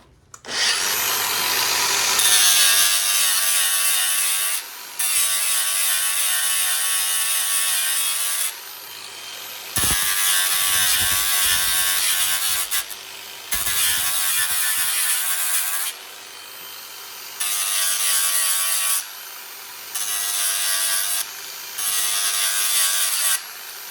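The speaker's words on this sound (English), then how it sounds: "I'm just going to grind the factory edge a little bit to get the mill scale off" An angle grinder works the factory edge of steel stock to strip off mill scale, a harsh, loud, close grinding whine in repeated bursts of a few seconds, separated by short pauses as the tool lifts.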